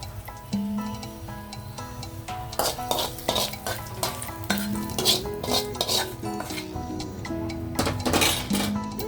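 A hot tempering of cumin, mustard seeds and dried chillies is poured and stirred into peanut chutney, with a spoon repeatedly clinking and scraping against the vessel over a soft, continuous sizzle, close up and without speech.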